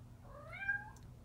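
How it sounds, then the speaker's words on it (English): A cat gives one short, rising and falling meow, clear and close, over a low steady background hum. "I decided to leave that little meow in there."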